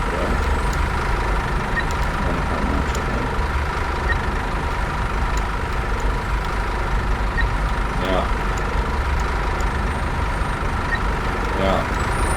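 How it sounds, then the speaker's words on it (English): A Scania Touring coach's engine runs steadily in Fernbus Coach Simulator on the Groningen to Bremen route, with a loud, continuous low rumble throughout and a few brief hisses. "Leave the engine running for now"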